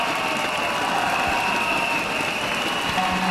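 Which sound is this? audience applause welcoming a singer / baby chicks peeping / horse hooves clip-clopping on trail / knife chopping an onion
audience applause welcoming a singer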